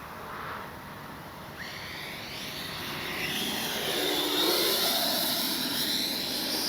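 An FMS Avanti S 90mm electric ducted-fan RC jet flying past, a continuous high whine that swells louder and shifts in pitch as it nears, steady and without talk.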